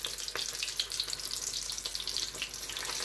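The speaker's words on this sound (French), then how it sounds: "je fais bien tremper ma gambasse et je la verse dans l'huile très chaude" A battered prawn fritter fries in very hot oil, giving a steady, bright crackling sizzle with small popping bursts throughout, close and continuous with no talk.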